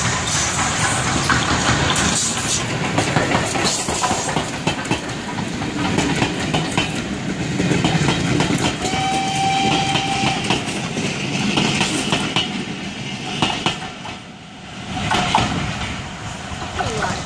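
A Crab 2-6-0 steam locomotive hauls a passenger train past between Summerseat and Burrs on the East Lancashire Railway, a steady rumble with rhythmic clickety-clack of wagon wheels throughout, fairly loud and close.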